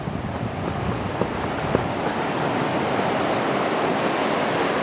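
Swollen river water flowing after recent rains along a cut channel near the East Fork of the San Gabriel River, a steady broadband rushing wash with wind buffeting the microphone throughout, no voices.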